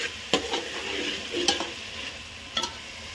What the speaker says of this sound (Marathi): भाजून घ्यायचं मसाला. आता 5-10 मिनिटं भाजून घ्यायचा.